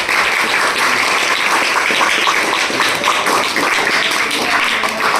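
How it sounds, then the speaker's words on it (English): Students in a class 9 classroom at a school in Panchkula applaud themselves, a dense burst of clapping from many hands, steady and close, filling the whole moment. "Clap for yourself."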